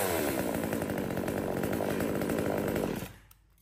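A small Q3 chainsaw made for pruning branches runs at a loud, steady buzzing idle close by, then the engine cuts out abruptly, leaving near silence.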